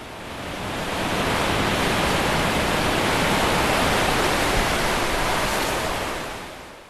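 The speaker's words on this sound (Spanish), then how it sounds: "Esta es la segunda cascada más alta que alguien ha intentado bajar en kayak." A tall waterfall being run by kayak roars as a steady, dense wash of falling water, broadband and loud, swelling in over the first second and holding evenly before easing slightly at the end.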